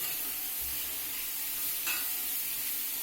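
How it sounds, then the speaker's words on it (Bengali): Soft, steady sizzle of sliced bitter gourd frying in oil in a pan, a faint continuous hiss with a small crackle burst near the end, no voices. "এখানে আমি উচ্ছেটাকে ভাজতে দিয়েছি"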